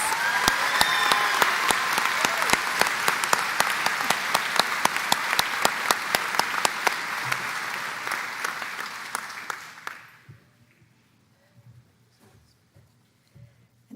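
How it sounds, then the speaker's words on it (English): Applause for graduates at a commencement ceremony, a large crowd clapping steadily for about ten seconds, then fading out to a few scattered claps in a quieter hall. "Let's give our outstanding graduates a round of applause."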